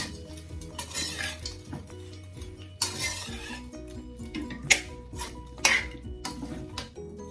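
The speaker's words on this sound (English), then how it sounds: "I'm just gonna stir these around, guys. Mix them up in your shrimp." Shrimp and mixed vegetables are stirred in a pan for jerk shrimp fried rice, a metal utensil clanking and scraping against the pan in irregular bursts over a faint sizzle.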